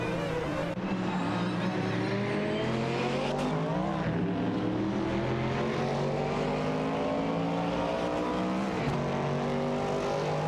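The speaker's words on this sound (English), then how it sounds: "Street 4NBZH and Mainik are behind the wheels of Nissan GTP ZX Turbos" Race car engines roar in a video game race, with Nissan GTP ZX Turbos and Porsche 962C Longtails battling closely, loud continuous engine drones shifting in pitch as cars rev and pass.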